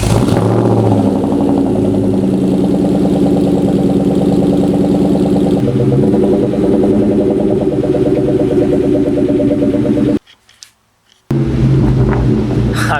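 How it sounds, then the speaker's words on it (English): Cold start of a Ford Mustang Cobra 4.6 four-valve engine, a steady loud idle with dense low rumble that shifts slightly, then cuts out briefly before the engine note returns. "So we're gonna give it a little cold start."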